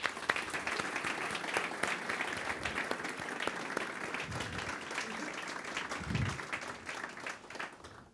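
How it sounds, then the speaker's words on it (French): An audience applauds at an anniversary presentation, sustained dense clapping from a crowd at a moderate distance, steady throughout with a few low murmurs beneath. "Roger, je pense qu'on peut l'applaudir."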